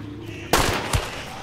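A gunshot rings out in the video game Hunt: Showdown: one loud, sharp crack, then a second, fainter report about half a second later, set against a quiet ambient background.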